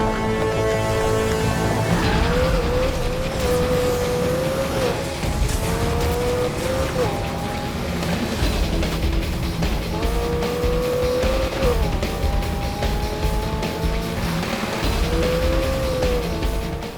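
McLaren P1 GTR race car driven in Need for Speed Heat, its engine note rising and falling continuously with gear-change dips, loud and steady over a constant music-like bed throughout.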